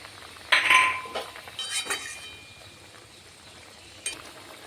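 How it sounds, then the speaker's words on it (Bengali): Paneer pieces tipped into a pan of potato and soybean curry, giving a few clinking metallic knocks and a short bright scrape, followed by quieter taps, with a faint clink near the end. "পনির কেটে রেখেছিলাম, পনিরগুলো দিয়ে দিলাম।"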